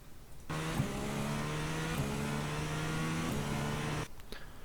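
A GTP race car in the iRacing video game at Spa-Francorchamps holds a steady engine drone, with quick pitch dips at gear changes as the throttle lifts and reapplies, loud and alone over about four seconds.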